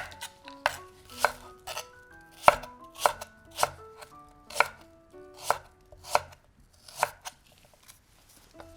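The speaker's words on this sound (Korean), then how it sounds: "대파를 썰어서 준비해둡니다" A knife chops green onion on a cutting board in a steady series of about a dozen crisp, close taps, evenly spaced with short gaps between them.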